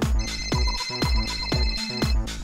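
An incoming phone call ringtone plays through Android Auto in a 2016–2017 Chevrolet Cruze, repeating in about five evenly spaced, loud melodic bursts with no one speaking.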